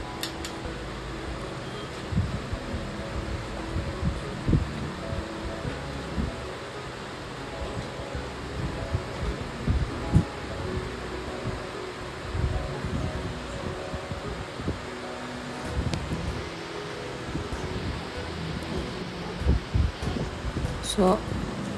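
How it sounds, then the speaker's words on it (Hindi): A hair dryer blows steadily while drying a cat's trimmed fur after a lion cut, giving a broad airy rush throughout with small fluctuations, and a person talks over it. "अब हम डायरेक्टली पूरे हेयर को ड्राई कर देंगे ड्रायर से।"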